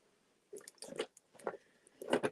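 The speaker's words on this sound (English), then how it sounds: "let me just nab a sip of water here" Someone takes a few quick, wet sips of water close to the microphone, soft slurping bursts separated by short pauses in an otherwise quiet room.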